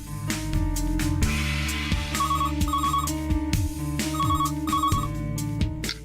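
A telephone rings loud and close, sounding in repeated patterned bursts of a bright electronic ringtone with short gaps between them, and no one talks over it.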